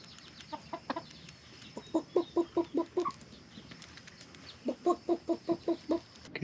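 Chickens cluck in quick rhythmic bursts outdoors at a house surrounded by landscape. Two clear runs of six or seven clucks come close by, with softer scattered clucks and light rustling in between.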